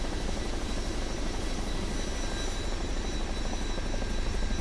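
Chinook twin-rotor helicopter in Microsoft Flight Simulator 2024, a steady dense rotor and turbine drone with constant low thumping, loud and unbroken throughout with no talking.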